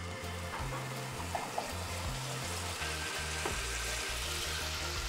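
A spoonful of cream sauce sizzles in a hot frying pan with pasta, a steady close crackle with soft clinks and a faint pulsing hum beneath it.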